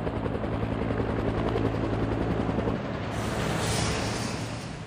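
A Cobra attack helicopter's engine and rotor roar continuously and loudly, the tone shifting partway through as a higher whine rises.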